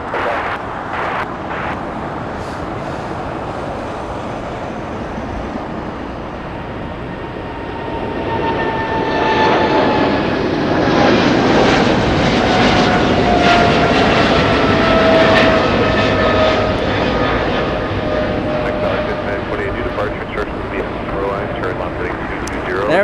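An American Airlines Boeing 777 taking off at Los Angeles airport, a loud jet engine roar that swells and holds with a rising whine, heard outdoors from nearby, with voices in the background.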